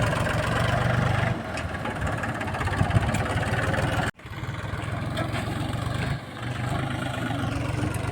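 Steady low chugging of an idling tractor weighed down with a load of stones, close and continuous, with one abrupt brief dropout midway and a slight dip later.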